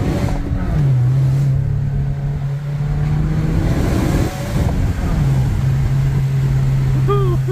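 A 2015 Subaru WRX on coilovers hums steadily from inside the cabin while turning around on the road, its engine note holding low and even, dipping briefly midway before resuming.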